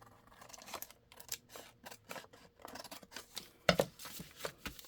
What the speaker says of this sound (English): you're just going to cut on that line.